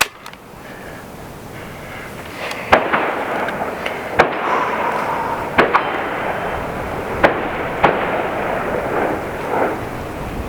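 An AEA Zeus .72 caliber air rifle fires Lucky 7 wadcutter rounds at 3,100 PSI into a concrete house foundation block outdoors, about six sharp cracking impacts spaced a second or so apart over a steady background hiss.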